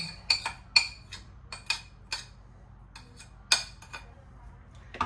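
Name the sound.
spoon stirring in a bowl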